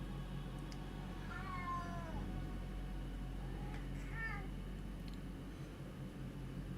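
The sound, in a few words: cat meowing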